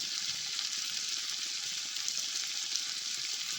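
Tomato chutney ingredients sizzle and fry steadily in a pan with a little jaggery, a continuous close hiss with faint stirring and no talk.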